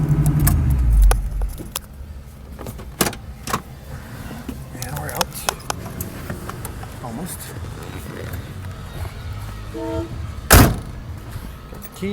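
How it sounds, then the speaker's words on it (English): Keys to a 1969 Chevrolet Camaro 350SS convertible jangle in short bright rattles over low outdoor rumble, with a few sharp clicks and a loud thump near the end. "Got the keys."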